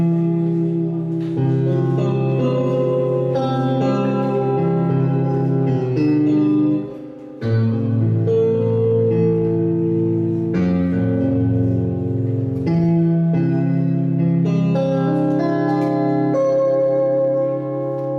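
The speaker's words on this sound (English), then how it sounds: "here's a clean electric guitar" Clean electric guitar patch from the stock sounds in Logic Pro X, playing sustained chords and melodic lines continuously for the whole stretch, loud and close with only a brief dip in the middle.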